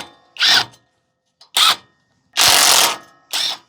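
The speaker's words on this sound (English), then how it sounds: "These are 18mm nuts, so I am using my impact gun with an 18mm." An impact gun with an 18mm socket zips off the lower control arm strut nuts on a Ford Bronco, four short loud bursts separated by brief pauses, the third burst the longest.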